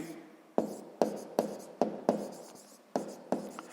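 A math solution being written out by hand, close and quiet: about eight distinct pen strokes or taps, each a short scratchy burst at an uneven pace, with no talk.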